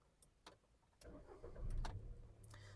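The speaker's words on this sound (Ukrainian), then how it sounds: "Давайте запустимо двигун." A 2010 Volkswagen Touran 1.6 MPI petrol engine cranks after a few faint clicks, catches and settles into a steady idle, fairly quiet and close.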